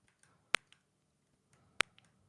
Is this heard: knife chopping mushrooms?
no